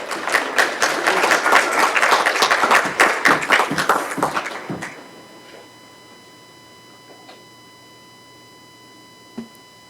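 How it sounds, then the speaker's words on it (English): Brief round of applause at a Yucca Valley town council meeting: dense, loud clapping for about five seconds that cuts off sharply, leaving a quiet room with a steady electronic hum and a faint thump near the end. "give him a round of applause as well"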